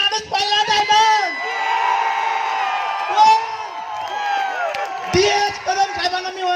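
A large audience at a motivational talk event cheers and whoops loudly, with rising shouts and whistling calls blending into a dense crowd roar.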